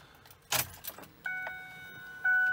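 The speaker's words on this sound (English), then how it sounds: "So now it says to cycle the ignition." Car keys jangle and click as the ignition of a 2008-2010 vehicle is cycled off and on, followed by a steady electronic chime tone from the car, close and moderately loud with no talking.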